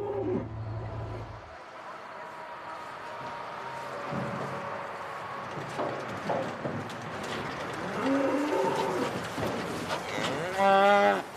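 Cattle moo repeatedly as they are let onto wet moor pasture for the first time, the lowing rising over outdoor ambience with birds calling and faint voices nearby.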